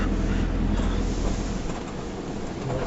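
A train heard from a motorhome travelling through Germany, a continuous loud rolling rumble with rail clatter filling the whole stretch, no voices over it.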